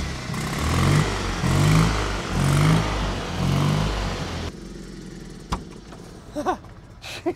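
A classic Fiat 500 engine revs repeatedly in first gear in rising and falling surges, loud and close, then drops to a quieter idle with a few sharp clicks and knocks.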